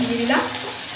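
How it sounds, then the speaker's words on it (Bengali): Ginger added to hot oil in a pan, with the oil spattering in a brief loud sizzling burst, close up and alone. "আদা দিয়েছি, তেল ছিটকাচ্ছে"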